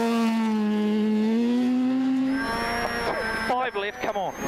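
A Mazda RX-7 rally car screams past on a gravel rally stage, a high rotary engine note rising then giving way to rapid revving and gear changes, with tyre noise and a voice speaking over the roar.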